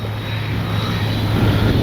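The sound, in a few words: OV-10 Bronco RC airplane flying overhead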